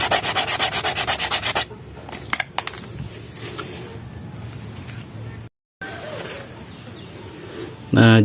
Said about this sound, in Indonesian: Lalu kita gosok kembali ya.